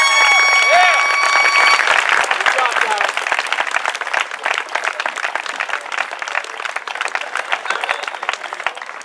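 Graduation audience applauding a student award at a school ceremony, steady dense clapping that stays loud from start to finish, with a brief tonal musical sound at the very beginning.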